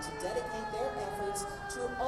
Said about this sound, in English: Just came through, and you can hear the old sirens.